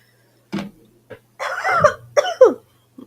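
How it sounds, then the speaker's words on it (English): A person coughs several times in short, separate bursts close to the microphone, with a rougher double cough in the middle and a faint final one, in a quiet room. "Try not to cough into the mic."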